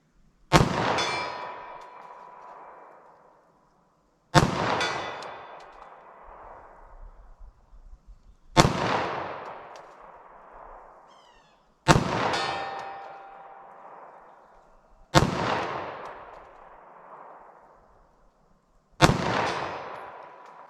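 Six handgun shots, 9mm JHP and .38 Special, fired at a target one at a time, each a sharp, loud crack with a ringing metallic tail, spaced about three seconds apart with no talking.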